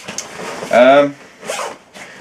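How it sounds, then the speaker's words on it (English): Zipper on a Lowe Alpine Travel Trekker Pro 70+17 backpack, drawn in a couple of quick, close rasping pulls with short pauses between, someone speaking briefly around them. "basically the zip goes all the way around"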